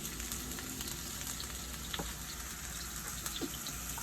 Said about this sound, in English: Let's start with my onions.